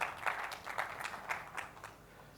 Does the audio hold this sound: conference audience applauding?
yes